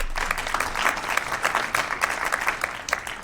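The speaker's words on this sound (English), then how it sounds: "Give them a quick round of applause." Audience applause greets a business and AI policy panel at a Texas growth summit, with steady, crisp clapping from a crowd that carries on evenly without talk over it.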